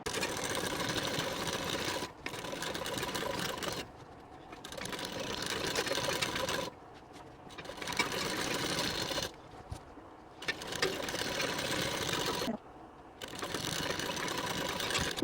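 A sewing machine stitches a saree petticoat belt in long steady runs, pausing briefly between bursts of fast, close mechanical whirring.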